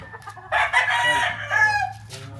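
A gamefowl rooster at a breeding area lets out one loud, close crow lasting about a second and a half over a low background hum.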